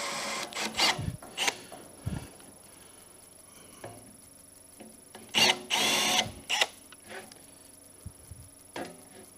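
A power drill enlarges a hole in a piece of sacrificial wood while a chip catch pan is fitted to a G&E shaper. It runs in several short, loud bursts separated by quiet pauses, close to the mic.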